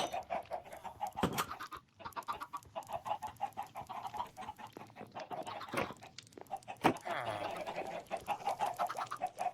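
Chickens in a Minecraft chicken farm cluck repeatedly and fairly loudly over a steady busy background, with sharp clucks and squawks scattered through the stretch and no talking.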